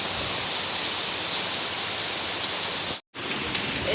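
Heavy artificial rain pours in front of a house, a dense, steady hiss throughout with one brief cut near the end and no talking.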